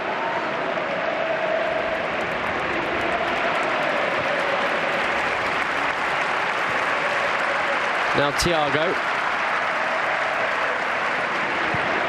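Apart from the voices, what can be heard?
football fans applauding in stadium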